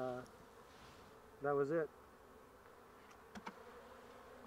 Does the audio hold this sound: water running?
no